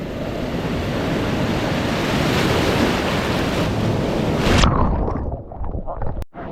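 Ocean surf rolls at Tannirbhavi Beach in Mangalore under heavy wind buffeting on the microphone, a loud continuous roar that swells and then drops away abruptly near the end.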